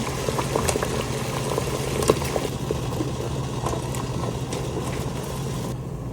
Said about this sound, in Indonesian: Sebelah sini airnya udah mendidih juga teman-teman,